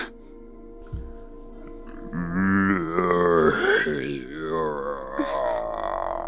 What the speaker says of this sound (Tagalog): yung tunog ng aswang ah.